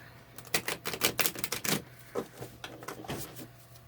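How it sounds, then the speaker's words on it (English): Tarot cards are shuffled in a quick riffle: a fast burst of crisp flutters, then a few slower taps as the deck settles, close and clear. "I will do a quick shuffle"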